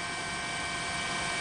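A live news camera helicopter flies over the Sendai area after Japan's magnitude 8.9 earthquake and tsunami, giving a steady, unbroken engine and rotor roar with no voices.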